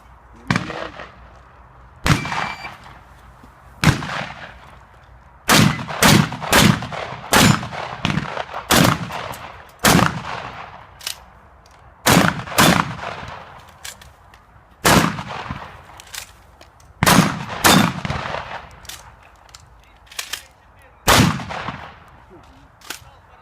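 Sharp gunshots at a shooting match crack out one after another at irregular intervals, some in quick pairs, each loud and close with a brief ringing tail outdoors.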